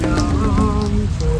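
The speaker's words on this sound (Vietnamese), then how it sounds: "Trời thì đang mưa" Steady rain falls outdoors in a dense, even patter that continues throughout, with faint tonal sounds underneath and no voices.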